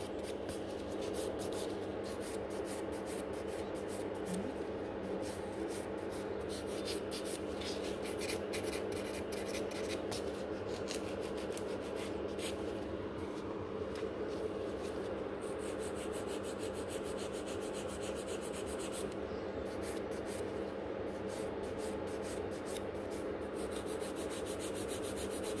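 Gel nail tips are scratched to roughen their surface, a soft, steady rasping that continues throughout at low volume, with no talking.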